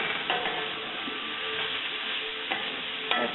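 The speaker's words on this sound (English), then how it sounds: "Give this a quick stir." Onion, garlic and tomato stirred in a skillet: a steady quiet sizzle with a few crisp scrapes and taps of the utensil against the pan.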